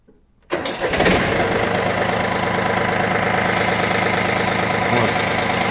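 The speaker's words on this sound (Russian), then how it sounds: "Сейчас заведем трактор, послушаем, как он работает" A Yanmar F2 Japanese mini tractor engine cranks after a brief quiet moment, catches and settles into a loud, steady close-up idle that runs without pause.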